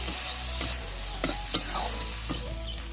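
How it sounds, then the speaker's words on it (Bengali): Spices and ginger-garlic paste fry with browned onions in a pan for a rohu fish curry. The close sizzle runs continuously, with a few sharp taps and scrapes from a stirring spoon. "তার মধ্যে আমি সমস্ত মশলা ও আদা রসুন বাটা দিয়ে দেবো এবং ভালোভাবে কষিয়ে নেব।"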